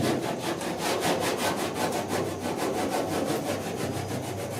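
Sanding block worked over body filler on the dash of a 1966 Ford F100, a steady back-and-forth rasping in even strokes of about four per second, close and continuous with no talk.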